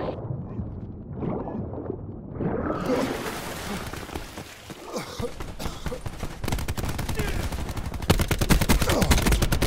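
Gunfire in Call of Duty Blackout, scattered shots and game noises that build into rapid, loud automatic bursts, denser and harder toward the end.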